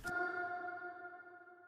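A single struck hit rings out into a long, smooth reverberant tone with clear pitched overtones, a reverb of about four seconds in Ableton, slowly decaying and heard alone.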